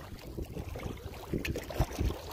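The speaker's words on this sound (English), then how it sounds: "Light wind blowing." Light wind on a sunny day on the Larder River makes a steady low rumble and buffeting against the microphone, with gusts swelling and fading throughout.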